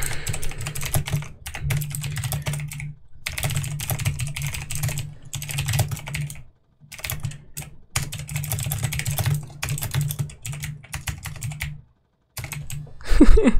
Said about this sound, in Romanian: Și acum se aude tastatura un pic